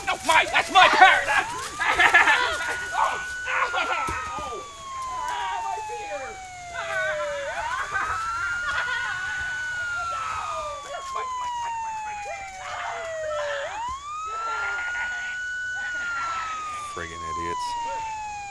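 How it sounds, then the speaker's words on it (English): Police sirens wail in rising and falling sweeps, repeating steadily for the whole stretch, fairly loud against a busy background of scattered voices and noise. "do you hear sirens?"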